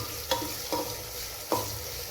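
Tomato and onion stirred in a pan with a spoon, three distinct scraping strokes spaced across a soft steady sizzle, close and moderately quiet with no talking.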